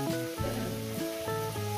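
Pieces of katla fish crackle and sizzle in hot oil in a pan, a steady close frying hiss with a faint hum and no talk over it.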